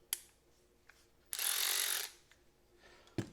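A Ryobi 4V lithium cordless 3/8-inch ratchet runs in reverse in one burst of about a second, a close, loud buzzing whir set between a few sharp clicks and clacks.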